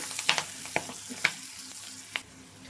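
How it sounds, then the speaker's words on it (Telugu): Fenugreek leaves and spring onion frying in a pan, a soft crackling sizzle with a few sharper pops and stirring clicks, quiet and close. "మెంతికూర అనేది ఇట్లా మంచిగా ఫ్రై కావాలి"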